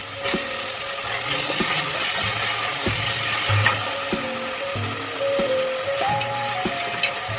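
Egg biryani masala fries in a pan just before tomato goes in: a continuous close sizzle with occasional soft stirring knocks, with no voices.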